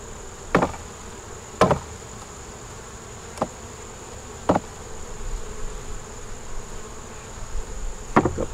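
Honey bees buzz steadily around an open hive in the background, broken by several sharp knocking clicks spaced irregularly across the recording.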